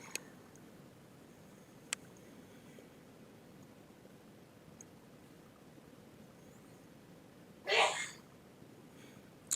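A single short sneeze bursts out near the end of an otherwise quiet stretch with faint background noise.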